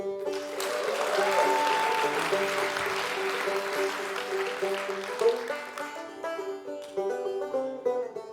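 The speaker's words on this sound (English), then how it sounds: "Right now, give it up for Pete" Applause from a folk festival tribute audience for a banjo-playing performer, a broad steady clapping wash that fades after a few seconds as stringed instruments take over and play on.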